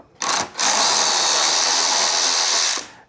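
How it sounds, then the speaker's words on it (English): A Snap-on electric ratchet whirs steadily for about two and a half seconds, driving a Harbor Freight socket while installing side mirrors on a Yamaha R7, after a brief first burst. "It's a Harbor Freight socket on a snap-on electric ratchet."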